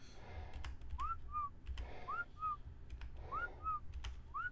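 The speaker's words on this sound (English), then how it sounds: "I'm just whistling for him." A person whistles repeatedly to call an animal, short rising two-note whistles in an even rhythm about once a second, clear and close over a low steady hum and faint clicks.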